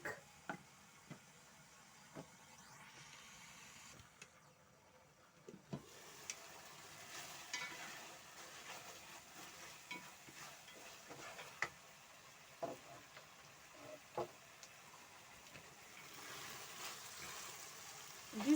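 Beef simmering in a covered pot, a faint steady bubbling sizzle with occasional light clinks and taps of the lid or utensil, quiet and close, with no talking.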